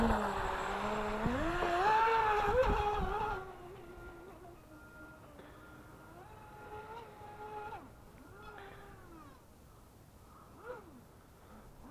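An Atomik Barbwire RC boat's electric motor whines loudly at full throttle on its first run, then drops to fainter rising and falling revs as it moves farther off across the water.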